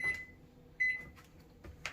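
A microwave oven heating a bar of Ivory soap gives off a quiet, steady low hum, with a couple of brief electronic tones near the start and again about a second later.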